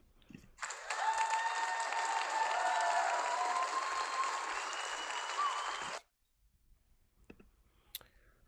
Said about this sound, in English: give these volunteers, our officers, a round of applause